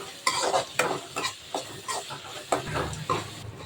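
Onion, garlic and curry leaves sautéing in a pan with repeated close scrapes and stirring strokes over a soft sizzle, irregular in rhythm and without voices.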